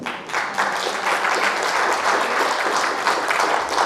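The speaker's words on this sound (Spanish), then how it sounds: "Démosle un aplauso a los hermanos del coro y de la música" A church congregation applauds the choir and musicians, a loud, sustained wash of many hands clapping together that fills the room for several seconds.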